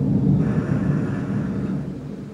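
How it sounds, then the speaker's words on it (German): Low, steady rumble of rolling thunder during a summer storm in Schöneck, Hessen, Germany. It fills the whole stretch at moderate loudness with no voices over it. "Es wird wohl mal ein Donner sein."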